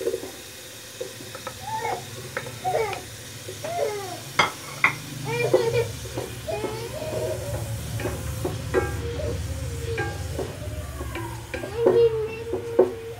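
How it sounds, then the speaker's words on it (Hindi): Onion and tomatoes sautéing in a pan for Pakistani keema matar pulao: a low, steady sizzle under repeated scraping stir strokes, with brief voice-like sounds now and then. "इसको अब भुनेंगे हम अब इसमें हम टमाटर डालते हैं"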